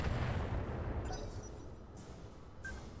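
Tank gun fire aimed at a Hetzer tank destroyer in a video game, heard as heavy booming rumbles with low-end blasts and scattered sharp reports throughout, fairly loud and continuous with no talking.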